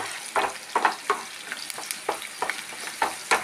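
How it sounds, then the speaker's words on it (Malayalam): A small amount of garlic fries in a pan for chutney powder, with a soft sizzle under repeated close scraping stirs in an uneven rhythm, and no talking. "ഞാൻ കുറച്ച് വെളുത്തുള്ളി എടുത്തിട്ടുള്ളൂ കേട്ടോ. നന്നായി ഫ്രൈ ആവട്ടെ."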